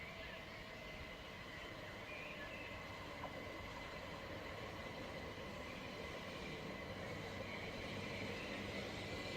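Class 37 diesel locomotive 37564 hauling a train, a steady rumbling rail roar with wheel and track noise, moderately loud and continuous throughout.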